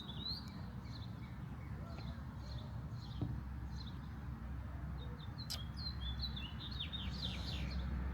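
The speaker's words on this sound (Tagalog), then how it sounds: "Ang sarap pakinggan yung mga huni ng ibon." Small birds chirp and tweet outdoors in short repeated bursts over a steady low background rumble, fairly faint and distant.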